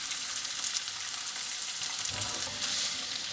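Garlic with sliced carrots and finely sliced fennel sizzles in a pan for guanciale fried rice, a steady, close, crackling fry with no talking.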